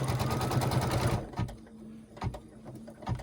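A sewing machine stitches fabric for a table runner, giving a fast, even mechanical chatter for about a second before stopping. A few softer clicks and handling knocks follow.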